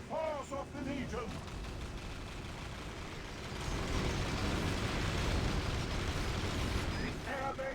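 Artillery bombardment in Battalion Wars II, a dense, continuous roar of explosions that swells louder midway, with brief game voices at the start and end.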